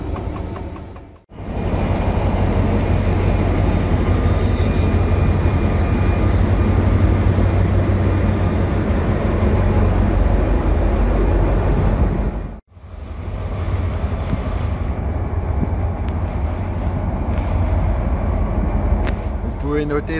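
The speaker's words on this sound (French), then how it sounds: "le 72 190 qui vient d'être démarré et qui fume comme une locomotive à vapeur" A French CC 72100 series diesel locomotive, number 72 190, idles just after start-up and gives off heavy smoke. A loud, steady engine rumble and hum fills the air, broken by two short dropouts, and there are no voices.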